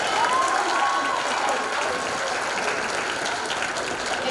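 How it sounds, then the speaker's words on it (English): Audience applause after a school production of Willy Wonka fills the room as a dense, sustained wash of clapping that continues steadily throughout. "Give yourselves a round of applause."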